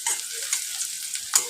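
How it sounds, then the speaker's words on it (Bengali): Onion turning translucent as it fries in a pan for an okra dish, a brief soft sizzle with a few light scraping strokes of a spatula. "পেঁয়াজটা ট্রান্সপারেন্ট হয়ে এসছে, এবার এর সাথে আদা রসুনটা দিয়ে ভাজতে থাকে।"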